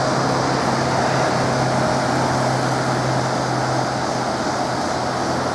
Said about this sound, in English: Just the engine running.